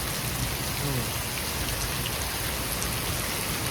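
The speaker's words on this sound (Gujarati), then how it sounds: "શાંત વરસાદ વરહે અત્યારે" Gentle, steady rain falling outdoors during a downpour, an even hiss of drops on surfaces with no talk.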